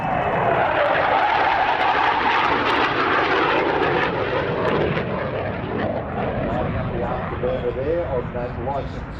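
A SAAB J-35 Draken jet fighter with a license-built Rolls-Royce engine roars past at an air festival, a loud, broad jet rumble that gradually fades, with a commentator talking over it.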